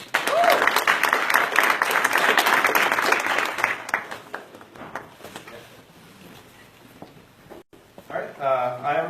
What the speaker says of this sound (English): So, give a round of applause for Seth.